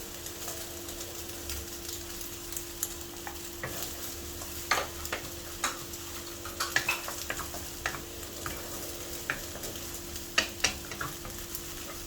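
Garlic frying in oil over high heat for egg fried rice made from leftovers, a steady close sizzle with repeated scraping and clinking as a utensil stirs against the pan, a constant hum underneath.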